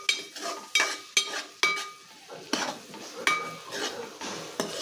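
A spoon stirs ginger with onions and green chillies in a pan, sharp metallic scrapes and knocks against the pan's side recurring every half second or so over a faint, low sizzle, close and fairly quiet.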